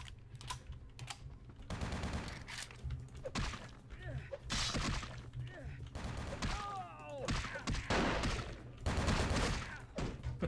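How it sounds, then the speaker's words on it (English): Gunfire rattles in the video game Vampire: The Masquerade - Bloodlines, with rapid bursts of shots and sharp impacts throughout, while voices talk intermittently over the shooting. "I like how he's shooting his own there"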